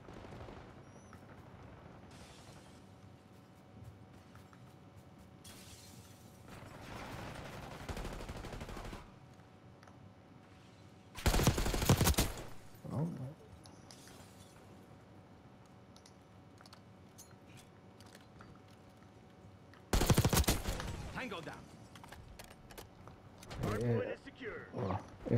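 Assault rifle gunfire in Call of Duty Black Ops 6 comes in a few loud, short bursts against quiet game ambience and keyboard-like clicking. Someone talks between the volleys.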